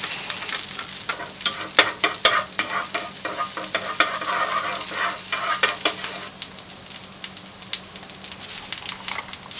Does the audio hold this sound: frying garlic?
yes